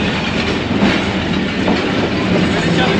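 The 101UP Subk Raftar passenger train pulls out of Lahore station, a loud, steady rumble of rolling carriages with rhythmic wheel clatter close by.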